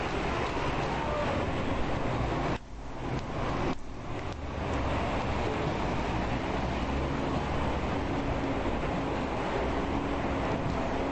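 Inside a subway station in Chile, a steady loud rumble of trains and station machinery fills the space, with brief dips in the noise along the way and no voices.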